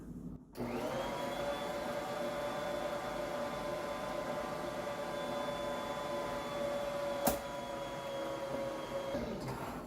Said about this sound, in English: I'm going to go ahead and turn my mixer on